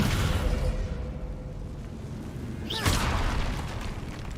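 An Incendio fire spell is cast in a catacomb in a Harry Potter-style video game, giving a sudden whooshing burst of flame over a steady low rumble, with no talking.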